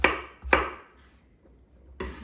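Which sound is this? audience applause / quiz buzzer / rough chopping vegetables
rough chopping vegetables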